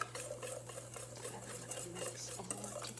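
A utensil stirs and scrapes through a bowl of okra mixture with onion powder, giving soft, repeated scraping strokes close by over a low steady hum, with no talking.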